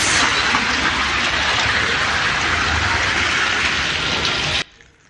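Heavy rain pours steadily in Tiruvarur district, Tamil Nadu, as a dense, loud hiss that runs unbroken for several seconds before cutting off abruptly.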